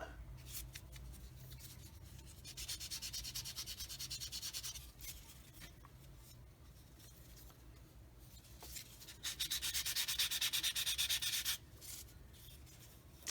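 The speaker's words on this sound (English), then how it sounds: "And then smooth it out with this spongy kind of thing, with a real fine grit on it." A fine-grit sanding sponge rubs over a small plastic part of a Tamiya 1/48 Fairey Swordfish Mk II model kit, two long bursts of close, soft, rhythmic scratchy strokes over a low background hum.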